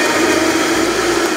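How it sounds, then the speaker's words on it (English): A blender runs steadily, loud and close, pureeing a broth mixture for Korean cold noodle sauce with a continuous whirring drone. "Puree in a blender until smooth."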